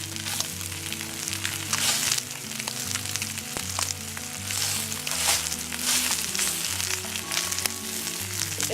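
Tilapia fries in a hot pan with a steady, dense sizzle and crackle that runs nearby and unbroken for almost nine seconds, with no voices over it.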